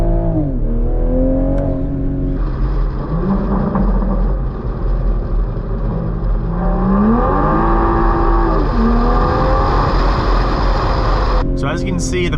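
Toyota Supra 3.0 Premium engine pulling hard through the gears, pitch rising and dropping with quick downshifts, loud and close from inside the car with a brief burst of noise near the end.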